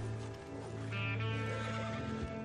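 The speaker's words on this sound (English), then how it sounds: "You almost killed him, trampling him with your horse." A horse neighing in the video game Red Dead Redemption 2, a faint, drawn-out whinny with shaky pitch that sits over a low, steady background hum.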